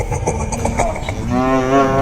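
A water buffalo moos in the Buffalo Win slot video game, a long, loud, low bellow that swells toward the end over a brief run of game chimes.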